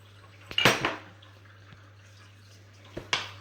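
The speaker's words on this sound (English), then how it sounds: "and then just mix it around" A spoon clinks and scrapes against a bowl while mashed potato, bacon, onion and mixed herbs are stirred together into a stuffing. Two short bursts of clatter come from close by in a quiet kitchen with a steady low hum.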